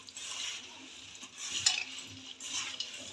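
Spoon stirring mango pickle with oil and spices in a pot, soft scraping and light clinks repeating steadily at close range, quiet with no talking.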